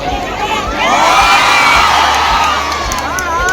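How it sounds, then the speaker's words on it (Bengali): A crowd at a Trinamool Congress public rally in Mathurapur cheers and shouts loudly in a sustained roar, with high whooping voices rising over it. "করতালি দাও সবাই। বাপিদাকে বড়"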